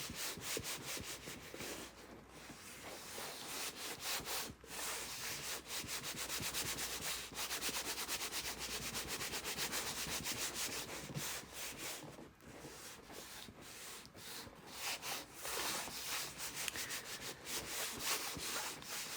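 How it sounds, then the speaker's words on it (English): Dense, steady rubbing from hand-smoothing glued Cricut-cut cardstock pieces of an Easter treat hutch, a continuous close scratchy friction with small pauses, nearly twenty seconds long with no talking. "So I'm just smoothing it as it dries, which doesn't take very long."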